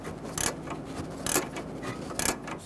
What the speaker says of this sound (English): I'm going to use an 18mm ratchet wrench for the nut